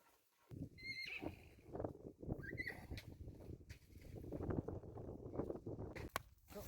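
A horse whinnies loudly near the start, with hoof clip-clops and other horse movement on a farm ride following under steady outdoor noise.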